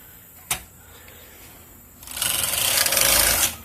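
A Toyota knitting machine with ribber attached: a single sharp click from racking, then a loud rasping, whirring sweep as the carriage slides across the needle bed for over a second.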